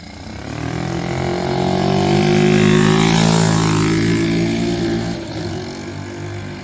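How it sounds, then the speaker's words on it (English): A Lifan 125 engine fitted in a Honda CT70 Dax copy runs nearby, its droning buzz rising in pitch and loudness as it revs up through the middle, then easing back down. "Lifan 125 engine in it."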